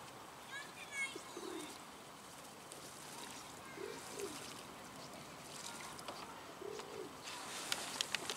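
Pigeons or doves cooing in a city park beside streams of running water, soft low coos repeating a few times at a distance over a steady outdoor background.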